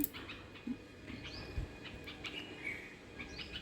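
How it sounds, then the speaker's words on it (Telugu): Scattered birds chirp faintly in short, high tweets, spread irregularly over quiet outdoor background with a few soft bumps. "పక్షులు"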